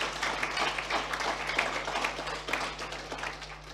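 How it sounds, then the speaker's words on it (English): Conference audience at the closing of a two-day national agriculture summit clapping steadily for several seconds, a dense, even patter of many hands at moderate distance, fairly quiet and without talk. "Let me see the loudness of your claps."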